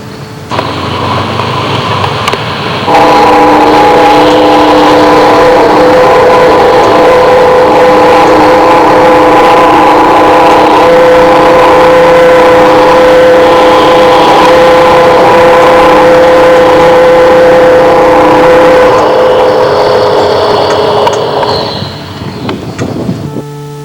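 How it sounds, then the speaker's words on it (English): The International Harvester factory whistle known as Big Toot, recorded in 1983, blows one long, loud, steady tonal blast lasting around sixteen seconds over a rumbling background, then cuts off, leaving faint ambient noise. "A friend of mine, Sharon Ginger, recorded the sound of the whistle on that day, and it sounded like this."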